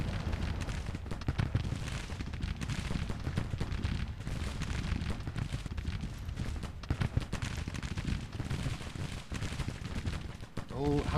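Carbine volleys and artillery in the Civil War strategy game Grand Tactician, a dense rumbling stream of distant battle fire with scattered shots, steady throughout, with someone talking over it.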